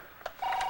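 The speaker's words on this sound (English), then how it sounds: "That's the phone." A telephone rings in a room during a soap-opera scene, a short electronic tone burst followed by a steady sustained ring, fairly clear with no talk over it.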